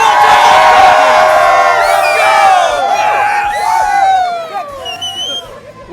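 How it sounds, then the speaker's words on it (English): A large crowd at the Big Buck World Championship cheers, whoops and shouts loudly all at once, a dense roar of many voices that gradually thins out toward the end. "Probably the loudest crowd that I've come across since I've been here."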